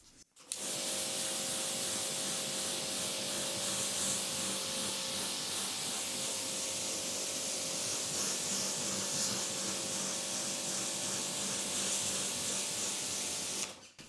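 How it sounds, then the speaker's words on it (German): A pressurized water jet rinses wet-sealant-treated car paint in one long, steady, close hiss over a machine hum that starts abruptly and stops near the end, with no talking. "So, jetzt strahlen wir es einmal ab."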